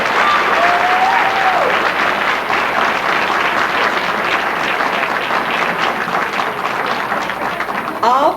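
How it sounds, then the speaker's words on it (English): Sustained audience applause fills the whole stretch, loud and dense, for the 2002 Miss Fashionetta debutante court at an AKA debutante ball in Vallejo, California, with a brief whistle-like cheer rising early on. "Could you give them a round of applause?"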